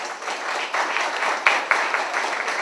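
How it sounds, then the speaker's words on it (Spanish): Audience applause welcoming guitarist César Morales Salcedo at a guitar duo concert, a steady dense wash of clapping from a crowd with a couple of sharper claps standing out. "a quien, por favor, pido fuertes votos de aplauso para él."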